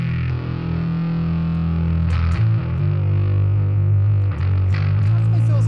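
An electric guitar plays through a JHS Crimson 1992 Russia fuzz pedal with its switch engaged, giving a loud, thick, sustained distorted tone with a few picked chord changes and no talk.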